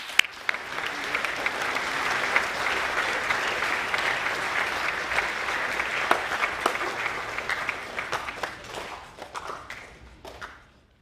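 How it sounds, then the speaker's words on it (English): A school assembly audience applauds Year 11 academic award winners with sustained, dense clapping that stays steady for most of the stretch, then thins into scattered individual claps and a few thuds before dying away. "Please affirm the Year 11 Academic A+ winners with a round of applause."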